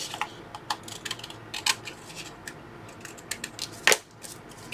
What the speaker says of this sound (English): Then I can see with my scissors where to cut to trim that off.